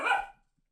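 One short, close dog bark sounds sharply, then cuts off into silence.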